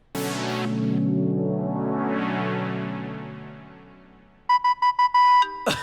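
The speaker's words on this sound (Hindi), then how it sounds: "ओ मेरा फोन आ गया," A phone ringtone plays in a TV drama scene, a sustained swelling melodic tone for several seconds followed by a loud, rhythmic series of electronic beeps at the end.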